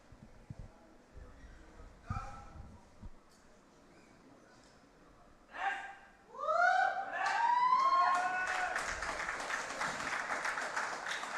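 Spectators at a para powerlifting world championship break into loud applause and cheering with whistles after a quiet stretch of faint sounds, the crowd noise swelling and holding steady to the end.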